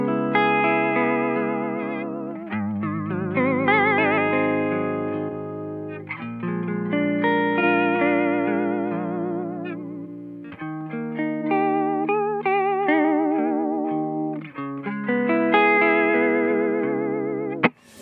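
Electric guitar run through a Boss VB-2w vibrato pedal, playing chords and melodic phrases with a strong wavering pitch warble, loud and alone, the effect deepening between passages.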